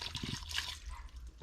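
Marinade poured into a vacuum marinade tumbler over beef for spicy Cajun beef jerky, a short wet pouring and dripping trickle up close, ending in a louder splash or knock.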